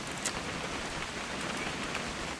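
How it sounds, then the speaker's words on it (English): Steady rain falls in the video game What Remains of Edith Finch, a dense, even patter on surfaces that continues without a break. "It's gonna rain the whole weekend, isn't it?"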